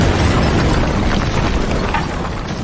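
A missile from a drone strike explodes in a loud, sustained blast, its roar filling the whole short stretch with dense, rumbling noise that barely fades.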